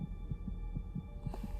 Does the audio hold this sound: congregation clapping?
no